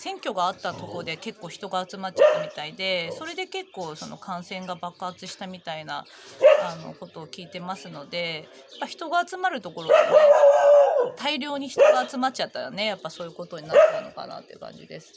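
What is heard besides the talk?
dog barking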